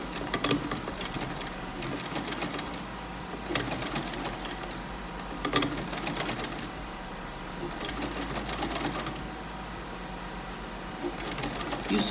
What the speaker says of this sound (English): You sew and stop, sew and stop.